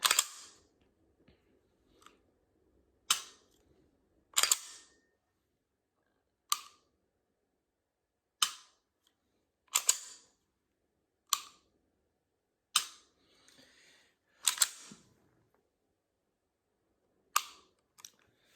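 A Sig Sauer M18 pistol trigger is dry-fired and reset repeatedly, giving about a dozen sharp, crisp metallic clicks spaced a second or two apart against near silence.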